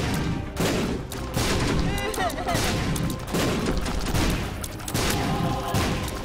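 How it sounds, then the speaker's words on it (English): Rapid bursts of explosions and gunfire-like blasts from The Binding of Isaac Afterbirth, dense and continuous game combat sounds with a voice talking faintly underneath. "The fact that I'm immune to explosions is just crazy."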